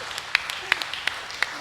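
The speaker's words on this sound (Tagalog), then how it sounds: "Pumalakpak." A congregation at a healing service claps in a few sparse, scattered bursts, quiet and somewhat distant, with no speech over it.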